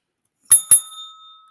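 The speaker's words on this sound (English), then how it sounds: "Ring the bell." A bicycle-style bell gives two quick, bright rings in succession, loud and close. Its metallic tone lingers and fades after the second strike.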